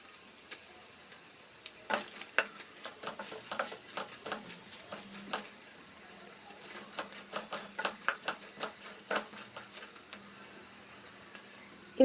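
Paneer cubes and capsicum frying in a pan, faint and close, with a quiet background sizzle broken by irregular small ticks and taps of stirring.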